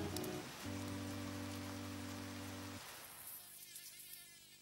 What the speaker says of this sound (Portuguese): Oh, eu adoro mosquitos!